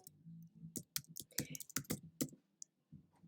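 Typing on a computer keyboard makes quick, close clicks in an uneven burst that stops near the end, heard beneath someone speaking.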